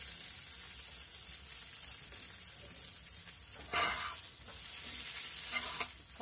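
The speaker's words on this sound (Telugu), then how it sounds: "కొంచెం అట్లా ఫ్రై చేసినట్టుగా, అంటే ఈ మసాలా అనేది దీనికి మిక్స్ అయ్యేలాగా" Masala paste fries softly in a pan while being stirred, a low steady sizzle with a brief louder scrape of the spoon partway through, fairly quiet and close with no voices.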